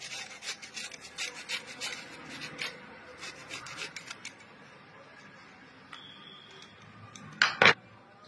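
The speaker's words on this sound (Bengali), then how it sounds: "আদা ঘষে নেবো, আদা ঘষুনি দিয়ে ঘষে নেবো" Fresh ginger is rubbed across a hand grater for marigold flower pakoras, giving soft, quick rasping strokes in an uneven rhythm, close but faint, ending with a louder scrape.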